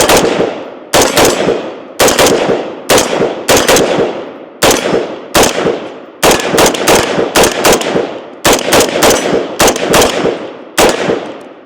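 A PSA Jakl rifle firing through a magazine outdoors, with loud, sharp shots in quick rhythmic bursts of two to four, separated by short pauses, about thirty reports in all.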